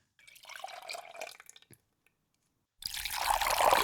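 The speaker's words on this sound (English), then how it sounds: "now we've got the milk pouring into the bowl" Milk pours into a bowl as a commercial sound effect: a short liquid trickle and splash, a pause, then a louder, brighter rushing pour close up, with no voices.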